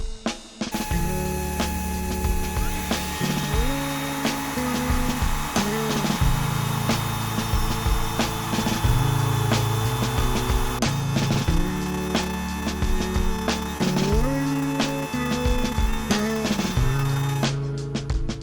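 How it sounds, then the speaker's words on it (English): A small electric blower runs steadily, blowing dust out of a drilled hole, with a continuous close whir under a shifting motor drone, loud and unbroken for about seventeen seconds before stopping. "I've got my little blower going to blow the dust away"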